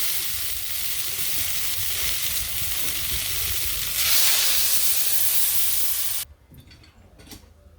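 Water poured into a pan of sizzling, well-fried curry in a village kitchen sets off a loud, steady hiss and crackle that swells into a steamy burst, then cuts abruptly to quiet simmering.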